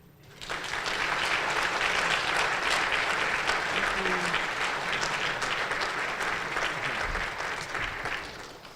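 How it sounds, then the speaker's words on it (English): A crowd at a community brunch bursts into sustained applause that swells within a second and holds loud and even for several seconds before tapering, with scattered voices underneath. "Let's have another round of applause for Dr. Cheryl McCarthy."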